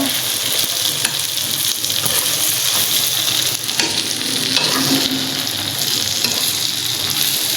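Hilsa fish frying in hot oil, a steady, dense sizzle crackling without pause and close by throughout, with faint scraping of stirring now and then.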